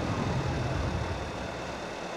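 A tractor engine in Farming Simulator 22 idles steadily with a low, even rumble and faint higher hum, continuous and unchanging throughout.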